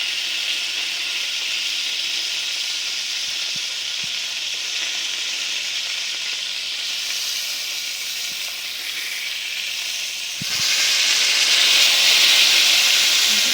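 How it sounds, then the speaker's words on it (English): A cut top cap sirloin steak sears in a cast iron pan with a loud, steady hissing sizzle that swells sharply near the end, with a few faint clicks, and no voices. "we'll sear the cut side that I did"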